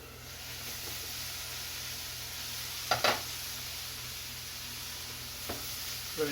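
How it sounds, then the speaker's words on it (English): A steady, moderate sizzle of vegetables frying in a hot pan for a curry lamb tagine, with a couple of brief clanks of a utensil stirring partway through. "Really sizzle. I want to really get hot."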